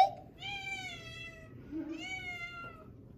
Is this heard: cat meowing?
yes